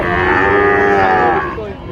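Cattle moo at the Raniganj cattle market, with one loud, close, long low call that holds steady and then tails off.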